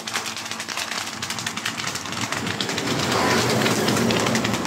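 An automatic foaming machine blows out foam in a loud, steady rush with a rapid fluttering pulse, the roar swelling and growing denser toward the end.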